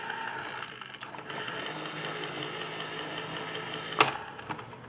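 A new electric can opener with gold accents runs smoothly and quietly in a kitchen, giving a steady low mechanical whir for several seconds with a brief sharp click near the end.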